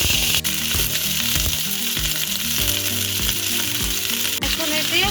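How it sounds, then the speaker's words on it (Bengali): Potato and cauliflower pieces fry in oil in a frying pan with a loud, dense, continuous sizzle and crackle, close up, under a low background hum. "এবার আমি আলু ফুলকপি হালকা করে ভেজে নিব।"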